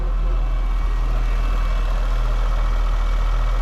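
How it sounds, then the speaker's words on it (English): A supercharged engine in a 2014 Jaguar XKR idles smoothly at close range, a steady low rumble with an even hum and no voices over it. "There's that supercharged engine and it is running smooth"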